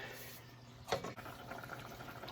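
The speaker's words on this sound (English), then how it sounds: "now this has been boiling a little bit" Beef bolognese sauce with wine boils in a pot on high heat, giving a faint, steady bubbling hiss with one brief louder splash or clatter partway through.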